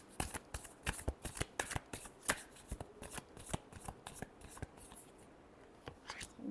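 A deck of tarot cards is shuffled by hand, giving a quick, steady flutter of crisp card slaps and riffles, close and fairly soft, with no talking over it.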